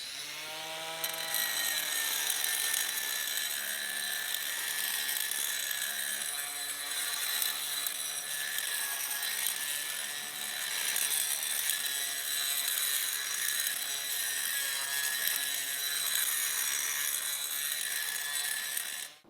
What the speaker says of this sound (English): I'm gonna warm up and get the feel for the grinder on this side first